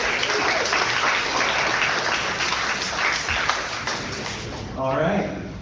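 Audience applauding at a startup demo day in Singapore, sustained dense clapping from a crowd filling the room, with cheering and a voice over it near the end.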